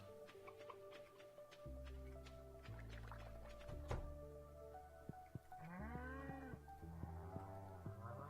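Cattle mooing on a farm in the video game Stardew Valley, drawn-out lowing calls rising over steady, tonal in-game music, mostly toward the second half.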